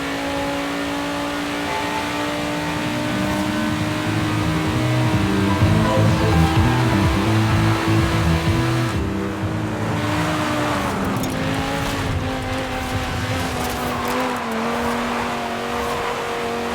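A car engine in the Forza Horizon 5 racing game drones steadily, holding a high revving tone that rises and dips as the car drives on, loud and continuous throughout.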